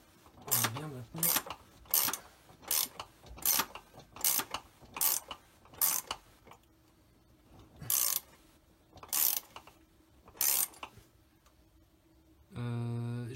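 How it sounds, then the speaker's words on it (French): A flat ratchet works the driveshaft bolts on a BMW E46 330, giving about ten short bursts of sharp clicking in an uneven rhythm with quiet gaps between them, ending in a longer mechanical whir. "j'utilise mon cliquet pour avancer, donc le cliquet plat de tout à l'heure"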